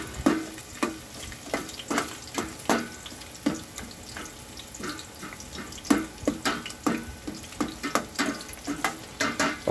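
Ginger and onion sautéing in a pan for tinolang manok, a continuous close sizzle with repeated scraping and stirring clatters and no talking.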